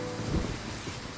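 Steady heavy video game rain hisses in a dense wash, with a soft low rumble swelling briefly near the start.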